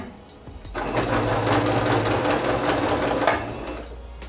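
A sewing machine runs steadily, stitching through the pages of a handmade album, a continuous close mechanical whir starting after a brief pause and holding loud and even to the end.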